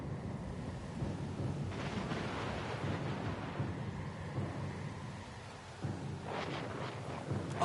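Thunderstorm at sea in the video game Pillars of Eternity 2, a low rumbling roll of thunder over steady rain and wind, swelling twice to heavier crashes, fairly distant and soft.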